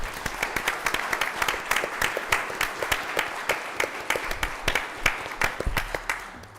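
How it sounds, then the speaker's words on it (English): A modest audience at a village council public meeting claps, with distinct individual claps rising and falling in an uneven rhythm in a fairly quiet room. "Let's give this young man a big round of applause."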